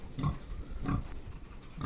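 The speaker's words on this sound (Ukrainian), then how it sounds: "Це кабан." Low, rough grunts from a boar, three short bursts spaced roughly evenly, fairly close and moderately loud.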